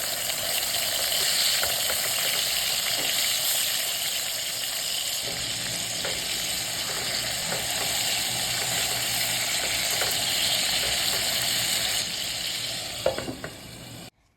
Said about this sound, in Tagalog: Habang piniprito ko yung mga kasunod na batch